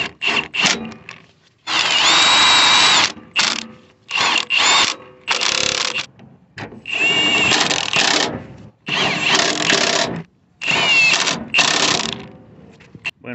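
Engine mount bolts on a 2002 Honda CR-V 2.4 being tightened with a power tool, in repeated loud mechanical bursts of varying length separated by brief pauses.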